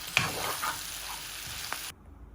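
Onions and chillies fry with pork belly in a hot pan, sending up a steady close sizzle with a couple of stirring clinks, before the sound cuts off abruptly near the end.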